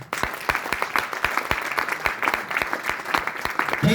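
Sustained applause from an audience at a business gathering, a dense steady wash of many clapping hands carrying on loudly throughout without letup.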